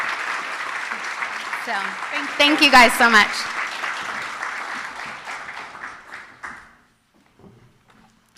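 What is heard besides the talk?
audience applause at awards event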